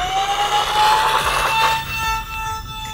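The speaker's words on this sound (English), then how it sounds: "The sound of the motors just sound a little bit funky if you don't full throttle it." Brushless electric motors of an E-Flite Citation Longitude RC jet plane whine at takeoff, a loud steady tone rising slightly in pitch with a faint pulsing over a rushing airflow hiss.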